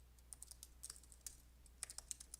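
Quick, light keystrokes on a computer keyboard while entering R code, a short irregular run of soft clicks close to the microphone over a low steady hum, with no talking.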